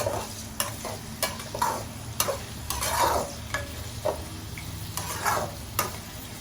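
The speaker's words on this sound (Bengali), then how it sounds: "সয়াবিন তেলটা দিয়ে দিয়েছি এখন আমি এটাকে নাড়াচাড়া করে দিব" Onions stirred in soybean oil in a pan: a steady close sizzle broken by regular scraping spatula strokes, about one every half second, with no voices.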